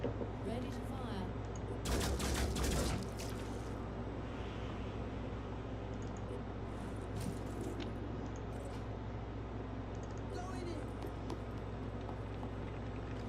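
Gunfire in the Phoenix Point video game: a loud burst of shots around two seconds in, set against a constant dense wash of in-game ambience and rumble.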